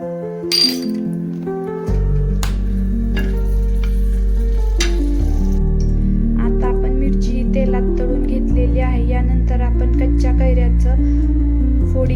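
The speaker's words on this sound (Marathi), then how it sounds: "आपण मिरची टाकून मिरची तेलात तळून घेऊया" Green chillies frying in hot oil give a steady, close sizzle with occasional clinks of a utensil against the pan, and a low hum runs underneath throughout.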